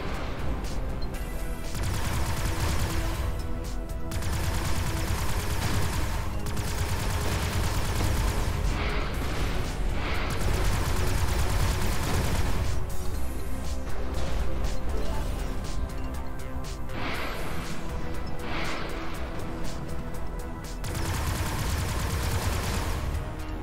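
Teleporting missiles launching and detonating in the space combat game Everspace 2, a dense, sustained barrage of booming blasts and crackling impacts layered over a steady rumble throughout.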